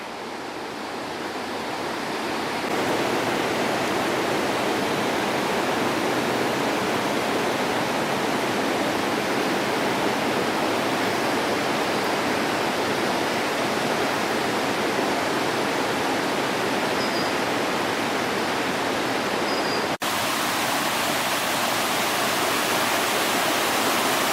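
Loud, steady roar of Niagara Falls and its churning rapids, a dense continuous rush of water filling everything with no voices.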